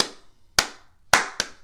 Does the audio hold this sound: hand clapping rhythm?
yes